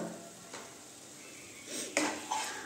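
Metal spoon stirring and scraping spices with turmeric and salt in a pan for cauliflower do pyaza, a few clinks and scrapes over a faint low sizzle, close and fairly quiet, no talk.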